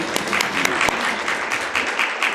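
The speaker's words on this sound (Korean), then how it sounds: "축하의 박수 할까요?" A church congregation claps in congratulation, a dense burst of many hands with a few sharp louder claps standing out, steady for a couple of seconds before thinning.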